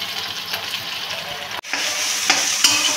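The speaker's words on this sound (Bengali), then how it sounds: "আমি এবার বিরিয়ানির বেরেস্তাটা আমি ভেজে নেব।" Sliced onions frying in hot oil for biryani beresta, a steady loud sizzle with stirring, briefly cut off by a short gap before the crackling resumes with occasional pops.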